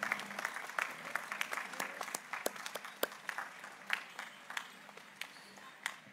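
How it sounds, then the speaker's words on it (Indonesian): Hearty crowd applause at a large Catholic anniversary Mass for an Indonesian high school, fairly faint and distant, scattered sharp claps within a steady patter for several seconds. "Kita beri tepuk tangan yang meriah pada mereka"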